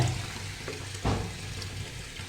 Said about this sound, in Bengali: এই যে দেখো সমস্ত পুঁই শাকগুলো ধুয়ে নিচ্ছে